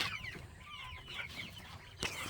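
Chickens being fed cluck and chatter nearby in a busy, overlapping flurry of short calls, with no one talking.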